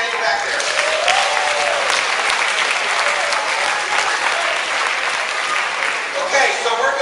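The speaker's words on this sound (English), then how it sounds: "So give it up for Suzanne in the back there" Loud, dense applause from a large audience at a university convocation, sustained evenly for several seconds, with scattered cheers mixed into the clapping.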